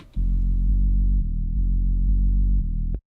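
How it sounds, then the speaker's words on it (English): A simple synth bass line made in Ableton Operator plays a few low, sustained notes with a slightly gritty tone, then stops abruptly. "So I've got a bass that sounds like this."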